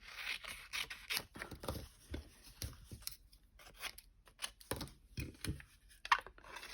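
Paper being cut with scissors for card making, a run of crisp snips and rustling scrapes in an uneven rhythm, close and fairly quiet, with no talking.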